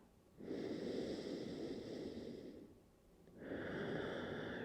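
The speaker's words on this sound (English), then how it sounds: "Nice slow breaths here." Slow, deep breaths in and out, close and soft, with two long airy inhalation-exhalation cycles separated by a short pause.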